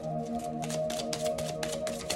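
Tarot cards are shuffled in quick, rhythmic bursts of riffling and rustling, close and fairly steady, with faint sustained background tones running underneath.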